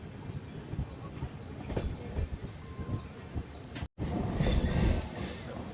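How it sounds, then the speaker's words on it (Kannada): A train pulling into platform 3 at Tiptur railway station, a steady rumble of wagons with rhythmic clickety-clack of wheels over rail joints, a brief dropout, then louder rolling noise. "ನಮ್ಮ ಟ್ರೈನ್ ಈಗ Tiptur railway station platform number 3ಕ್ಕೆ entry ಆಗಿದೆ."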